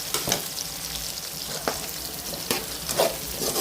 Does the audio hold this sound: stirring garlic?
yes